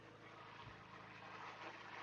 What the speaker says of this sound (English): Helicopter. Oh, loud.